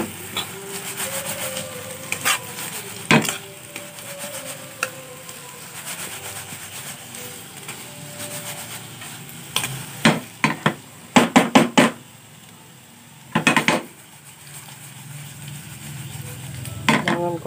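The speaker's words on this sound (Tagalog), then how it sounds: "Kailangan constant yung paghalo natin. Baka masunog." Banana cue caramelizing in sugar in a pan is stirred constantly, with scraping and rubbing from the utensil and sharp knocks against the pan in bursts, heard close and without talk.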